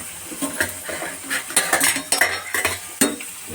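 Home-style egg curry with curry leaves being stirred in a pan: a spoon scrapes and clinks against the metal in irregular strokes over a faint sizzle, close and fairly loud.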